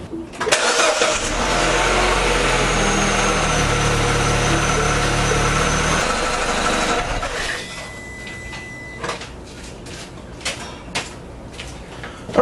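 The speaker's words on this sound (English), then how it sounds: "Now, let's start the car and check for oil leaks." A 2008 Mini Cooper's engine cranks and catches, running loud and steady for several seconds before settling into a quieter idle with scattered clicks and small sounds nearby.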